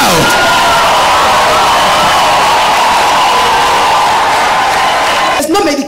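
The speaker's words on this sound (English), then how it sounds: "Rise up and clap for Jesus Christ. Give God a crazy shout." A church congregation cheers, claps and shouts all at once in a loud roaring wall of voices that fills the space, with voices mixed into the din.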